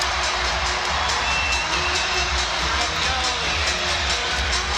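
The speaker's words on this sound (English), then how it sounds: "Listen to this crowd." A basketball arena crowd at an NBA game between the Thunder and the Cavaliers, a steady, dense roar of cheering that holds at one level and fills the space throughout.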